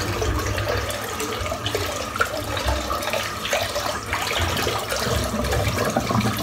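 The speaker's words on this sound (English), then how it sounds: "Just going to rinse out the sink." Water runs steadily from a tap while a bathroom sink is rinsed out after a shave, a continuous loud splashing rush with no voices.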